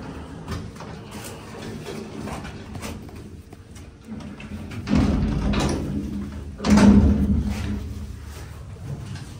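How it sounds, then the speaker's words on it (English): Manual door of a Montgomery hydraulic freight elevator at a shopping center being pulled shut, a low rumbling slide ending in two heavy thuds, the second louder, over a steady machine hum. "Shut the door."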